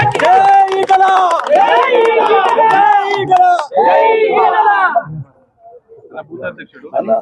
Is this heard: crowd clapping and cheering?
yes